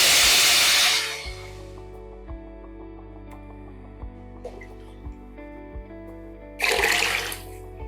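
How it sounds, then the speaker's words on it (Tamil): Rasam poured into a hot pan on a stove turned low erupts in a loud burst of sizzling and steam hiss, settles into a quiet bubbling simmer, then flares up again briefly near the end. "இப்ப ஸ்டவ் ஸ்லோவா வச்சுட்டு நம்ம எடுத்து வச்சிருக்க ரசத்தை எடுத்து இதுல ஊற்றலாம்."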